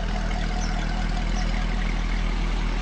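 The CORSA exhaust on a 2006 Chevrolet Corvette convertible with the LS2 engine gives off a steady, deep, close idle rumble that stays even, with no voices over it.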